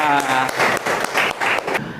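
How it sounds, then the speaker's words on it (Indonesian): A class of students claps in short, rapid bursts during a mathematics lesson, loud and close, with a little speech at the start. "Oke, baik, tepuk tangan."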